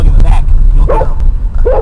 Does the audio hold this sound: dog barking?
yes